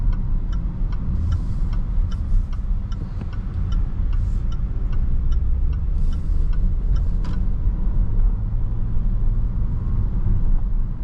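Steady low road and engine rumble fills the cabin of a 2021 Range Rover Sport HST SUV on the move, with a soft, regular turn-signal ticking for several seconds partway through.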